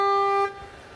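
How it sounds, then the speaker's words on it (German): A single short car horn honk, loud and close, cutting off abruptly into quiet. "Hupen."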